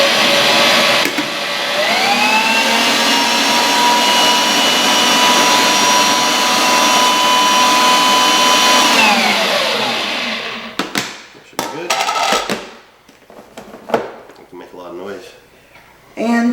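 Stand mixer blending dry pizza dough ingredients with the lid on, a loud steady whirring drone that spins up, holds for several seconds, then winds down and stops, followed by quieter handling noises.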